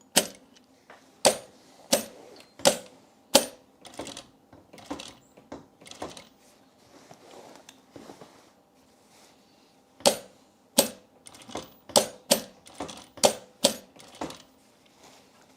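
A home sewing machine stitching fabric for holiday projects, running in quick bursts of sharp rhythmic clacks, a fast run, a pause with softer whirring, then another rapid burst, close-up with no talk.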